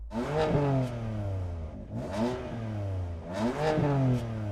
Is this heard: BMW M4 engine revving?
yes